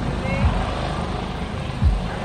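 A helicopter with a shrouded tail rotor runs at an airshow, giving a steady, loud engine and rotor drone, with brief low thumps rising twice.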